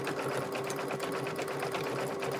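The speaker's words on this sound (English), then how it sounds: "When you get in these curves, you're going to have to stop your sewing machine." A sewing machine stitches embroidery onto a garment, running as a steady, continuous close-up whir with a constant mechanical tone and no talk over it.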